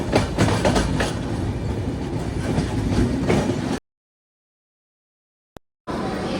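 A passenger train rumbles steadily along the rails at close range near Chandrapur, loud and continuous, then cuts to silence with a brief tick before the rumble resumes.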